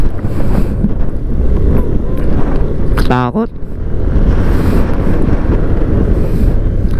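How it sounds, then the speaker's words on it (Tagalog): Strong wind buffeting the microphone on a trip near San Nicolas, Pangasinan, a loud continuous low roar throughout, with a brief spoken word in the middle. "Lakas ang hangin."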